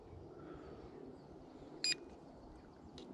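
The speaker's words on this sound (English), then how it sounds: "I guess we have a beep now" A JJRC X6 Aircus mini drone gives one short electronic beep partway through, with a second fainter one near the end, over a steady low background hum.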